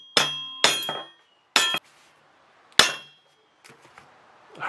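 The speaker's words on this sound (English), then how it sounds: "take a little hammer and just kind of pop it in place" A small hammer taps BMX handlebars into place on a mountain bike, giving four sharp metallic clinks with ringing decay, spaced unevenly, followed by a few faint light knocks.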